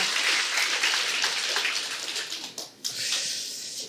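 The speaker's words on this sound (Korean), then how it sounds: "성도님들이 진심으로 영광의 박수를 쳤어요" Church congregation applauding during a Sunday worship service, a dense steady patter of many hands that dips briefly near the end before resuming, fairly close and without talk.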